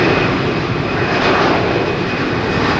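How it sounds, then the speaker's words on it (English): An aircraft taxis out at a windy Heathrow Airport, its engines giving a loud, steady, broadband roar that holds constant throughout with no voices. "We should see that aircraft taxiing out."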